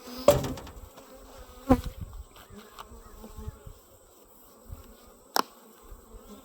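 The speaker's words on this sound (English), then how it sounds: "there's great bee numbers here, and it looks like all of these are in use" Honey bees buzz around an active hive with strong bee numbers, a soft continuous drone broken by a few sharp close knocks and passing buzzes.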